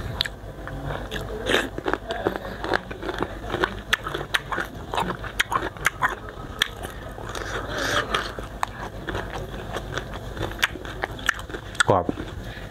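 Crunchy unripe mango is bitten and chewed close to the mic in steady crisp crunches, with a sweet fermented fish sauce dip nearby, as a person talks now and then over the eating.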